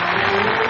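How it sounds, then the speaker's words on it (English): Applause from a crowd in a 1930s nightclub setting, a dense, steady wash of many hands clapping at a distance, old film recording with a faint hum. "That noise is applause, isn't it?"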